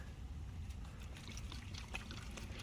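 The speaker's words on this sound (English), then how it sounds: "Let's get the gas in it." Gasoline pours into an old vehicle's tank, a faint, steady gurgling trickle with soft splashes, heard close and low with no talk.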